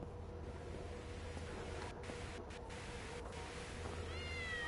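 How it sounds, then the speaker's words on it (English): Cats in the horror game Frightence let out a few faint, scattered meows over a steady low hum and hiss, with a thin rising cry toward the end and no talking. "Whoa, loads of cats."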